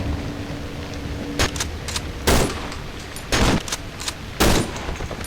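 Loud gunshots in the horror game Cry of Fear: about four sharp, irregularly spaced shots over a low, steady background hum, with no talking.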